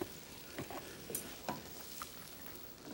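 Rice fries quietly in a pan, a soft continuous sizzle broken by a few scraping stirs and flips, heard alone without voices.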